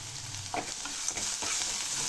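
Garlic cloves and coarse rock salt stir-fried together in a pan for a broad bean poriyal side dish, giving a brief, steady close sizzle with a few scraping stirs.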